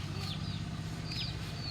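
A hen, a breeding bird of a straight-comb blue type, gives a couple of short clucking calls close by over a steady low rumble of outdoor background noise.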